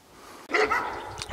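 A shepherd dog barks close by in a mountain forest, loud and insistent, one sharp bark followed by a steady rough run of barking over faint background hiss.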